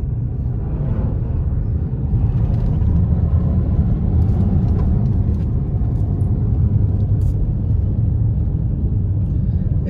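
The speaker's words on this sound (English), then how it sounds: "There's a couple cars coming." Cars driving by on a snow-covered mountain road in the Big Bear area of California after a big snowfall, a steady loud rumble of engines and tires that holds for the whole stretch with no clear gaps.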